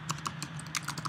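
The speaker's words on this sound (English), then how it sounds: "we can type 1401 Watts Street," Quick, light keystrokes on a computer keyboard typing out a street address, about seven crisp clicks in a short, uneven burst, close and fairly quiet.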